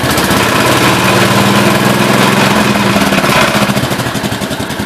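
A 1967 430 tractor engine idles steadily, a loud, close, even rumbling chug that holds constant throughout with no voices.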